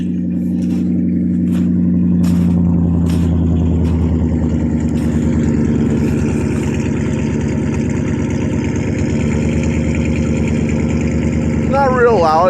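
A 1993 Ford F150 with a 5.0 V8 302 idles after a cold start through an 18-inch glass pack with no cats and 3-inch pipe, a loud, steady, even low rumble throughout with a few clicks early and a brief voice near the end.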